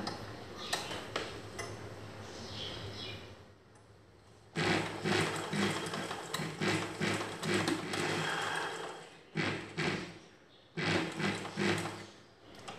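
A sewing machine stitches a blouse back neck, running in several bursts of steady mechanical whirring broken by short pauses, close and fairly loud with no talk.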